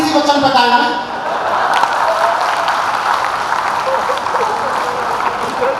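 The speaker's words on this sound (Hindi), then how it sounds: "और ताली को इस बात पे बजा देना" Audience at a live Hindi comedy show bursting into applause, loudest at the start and then settling into a steady patter of clapping; a voice talks over the opening moments.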